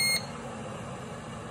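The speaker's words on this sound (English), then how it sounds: "And it beeps when it reaches the desired temperature." A Chefman electric kettle with temperature control gives one short, bright electronic beep at the start, then a quiet steady hum follows.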